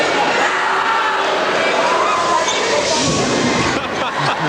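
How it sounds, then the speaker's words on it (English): Crowd at a 1995 Australian NBL All-Star basketball game in Adelaide roaring after a made free throw, a dense loud sustained cheer filling the arena with a commentator's voice over it. "The reaction from the crowd is something else."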